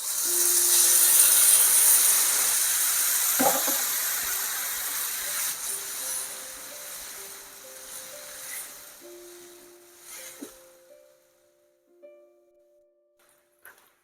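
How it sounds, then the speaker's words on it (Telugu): Hot water pours steadily into a kadai of egg masala curry mix, a loud hissing sizzle that gradually fades over several seconds while faint melodic background music plays underneath. "హాట్ వాటర్ యాడ్ చేసుకుంటాము, ఒక గ్లాస్"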